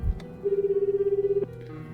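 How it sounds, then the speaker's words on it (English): A single electronic telephone ring tone in a visual novel video game sounds for about a second as a steady warbling buzz, clear and close, following a brief thud. "I heard the sound of the phone ringing."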